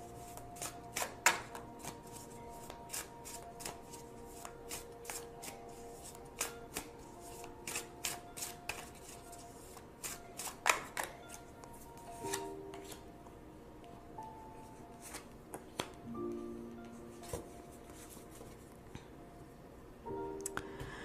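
Tarot cards shuffled and flipped by hand, repeated quiet snapping riffles and soft clicks in irregular bursts, with faint tonal ringing from the room behind, no talking.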